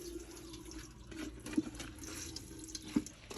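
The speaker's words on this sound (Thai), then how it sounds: "เอาน้ำใส่ลงไปเลยนะคะ" Water poured from a tap into a bowl of freshly grated coconut in a kitchen: a steady close splashing flow with a couple of light knocks, alone without talk.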